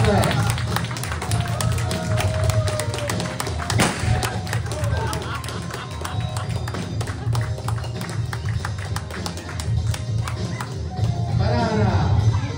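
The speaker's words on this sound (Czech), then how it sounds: "Poprosím potlesk." Applause from the audience at a Czech film premiere as an actor and screenwriter walks on, a dense, steady patter of many hands with thuds and crowd noise, sustained for the whole stretch with speech mixed in.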